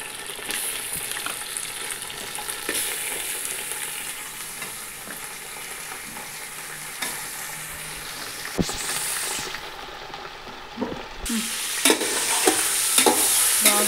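Chicken pieces frying in a pan with onions for chicken dum biryani, a loud continuous sizzle with scraping and stirring clatters throughout, growing busier toward the end.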